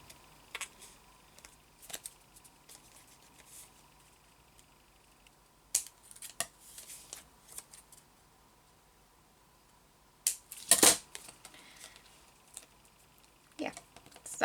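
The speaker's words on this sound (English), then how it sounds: "we can snip these little corners off as long as we don't go too far, and just cut our whole hinge" Scissors snip corners off paper for a junk journal pocket, several sparse sharp cuts spread over quiet moments with faint handling noise, close, and one louder crisp snip toward the end.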